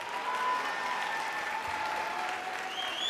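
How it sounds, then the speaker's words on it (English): Audience applause for a middle school beginner band at a winter holiday concert: steady, even clapping from a crowd fills the room throughout, moderately loud and unbroken. "Give another big round of applause for the beginner band."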